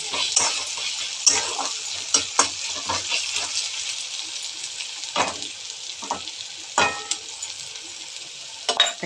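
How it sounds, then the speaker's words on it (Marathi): Tomatoes and onions fry in oil with a steady, close sizzle, punctuated by scattered sharp clinks and scrapes of stirring throughout, no voices. "तो पण मस्त फ्राय करून घ्यायचा तेलासोबत, कांद्यासोबत."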